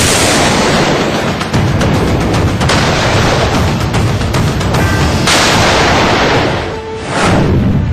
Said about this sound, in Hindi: पाकिस्तान सीमा पार से खूब गोलीबारी कर रहा है।